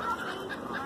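Geese honk in a short, busy burst as goslings are fed by children, the adults harsh and close, overlapping calls filling the moment with no pause.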